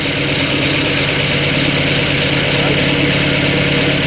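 A car engine idles loudly and steadily nearby, a constant rumbling drone with no talking.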